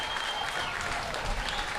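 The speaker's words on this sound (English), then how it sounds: "you'll probably hear the crowd noise as the Hunter side now comes out" A crowd at an under-17 Junior Gold Cup rugby match in the Hunter region claps and cheers steadily as the Hunter side takes the field, heard from a distance and at an even level.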